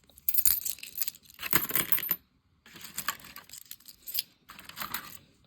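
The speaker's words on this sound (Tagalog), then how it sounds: "Puro barya kasi laman." Coins jingle and clink in a pocket full of loose change, loud and close, shaken in three bursts separated by brief pauses.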